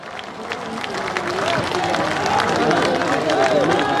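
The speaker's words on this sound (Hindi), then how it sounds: "सब लोग ताली बजाकर स्वागत कीजिए" A crowd at a party founding convention on a veterinary ground claps to welcome the new party president, the clapping building steadily beneath someone speaking over a microphone and crowd murmur.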